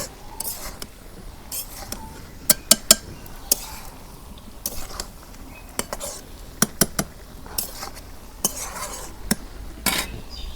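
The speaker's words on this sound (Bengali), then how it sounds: "ভালো করে নাড়াচাড়া করি" Egg and tomato curry being stirred in a pan, irregular metallic scrapes and sharp clinks of a utensil against the pan over a low background, repeated through the stretch.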